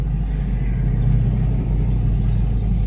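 A 1994 Chevrolet Corvette C4 with the LT1 V8 and six-speed manual idling steadily just after starting, a loud, close, deep and even engine rumble with no talking.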